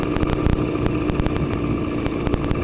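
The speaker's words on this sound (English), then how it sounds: "This is definitely the way to do a full suspension motorized bike. Putting that engine on the rear swing arm, it's just so good." A small engine mounted on the rear swing arm of a full-suspension motorized bike drones loudly and close while riding, a steady buzzing putter with regular rapid pulses.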